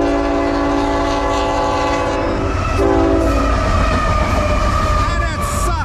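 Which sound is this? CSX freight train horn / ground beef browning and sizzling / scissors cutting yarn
CSX freight train horn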